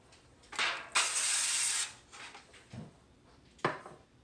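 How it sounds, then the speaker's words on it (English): Avocado oil cooking spray misted onto a pan while preparing a keto green bean casserole: two close, loud bursts of hissing spray, the second longer, followed by light clinks and handling noises, with no talking. "Optional is you can spray the pan. You can use this, I use the avocado oil spray."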